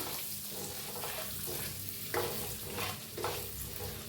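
Eggs coated in turmeric, red chilli powder, salt and masala fry in a pan, giving a steady close sizzle with several sharp scraping stirs and turning sounds, and no speech.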